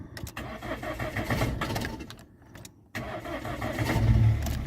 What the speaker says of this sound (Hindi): ये हमारी गाड़ी होगी अब स्टार्ट